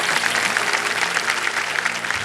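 Studio audience of a televised quiz show applauding, a dense, steady wash of clapping that holds at even loudness throughout, with no voices over it.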